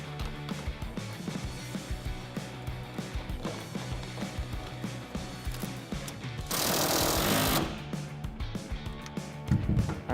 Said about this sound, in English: I'll grab my impact gun and just get it a little snug